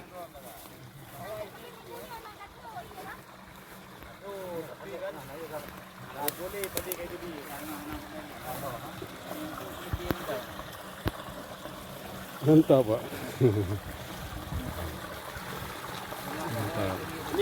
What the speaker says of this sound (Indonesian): Cukup kencang aliran air.